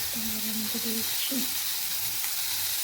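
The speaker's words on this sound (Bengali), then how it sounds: "আলু বেগুনটা একটু ভাজা ভাজা হয়ে যায়" Potatoes and eggplant frying in a pan with a dried red chilli tempering, giving a steady close sizzle throughout with a few faint brief tones over the top.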